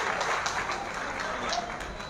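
An audience at a political conference welcomes the chief guest with continuous applause, a dense steady patter of clapping from a crowd.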